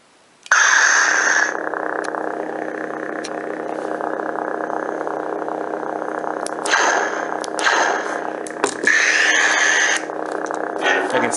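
A lightsaber's lockup effect hums and crackles with a steady buzzing static texture, loud and close for several seconds. Brief louder flares and clashes break through before it settles back into the static drone.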